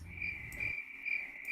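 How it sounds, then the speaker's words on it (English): Crickets chirp in a steady, high, continuous trill on a calm evening, heard through an open window. The sound is moderately loud and unbroken, with faint low rumble early on and no talking. "Hear the crickets?"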